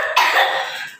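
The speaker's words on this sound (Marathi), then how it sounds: "खोकला यायला लागला ना" A single harsh cough from someone with a cold, loud and close, followed by a short fading tail; no speech.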